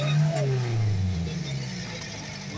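Prototype trial motorcycle revving its engine on a first uphill ride, a loud rising and falling drone up close that eases into a steadier running note.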